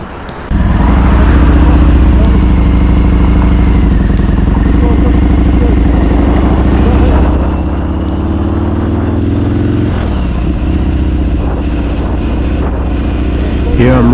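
A motorcycle rides over a bridge at the scene of an earlier accident, its loud, close engine droning steadily throughout and shifting pitch slightly partway through as the ride continues.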